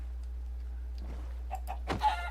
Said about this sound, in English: There's a chicken out here in the middle of the ocean.